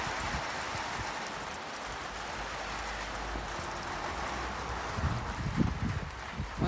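Steady rain in Guyana drumming on a rooftop, a dense continuous patter at moderate volume with a few louder drips and light rustling near the end.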